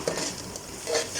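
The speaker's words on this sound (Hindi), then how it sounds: "लहसुन अदरक अच्छी तरह भून लेते हैं।" Garlic and ginger being stirred and fried in a pot for mutton pilau, a soft continuous sizzle with light scraping strokes of a utensil against the metal, close and fairly quiet, no voices.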